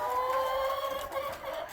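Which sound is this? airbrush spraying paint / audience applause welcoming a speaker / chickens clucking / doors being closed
chickens clucking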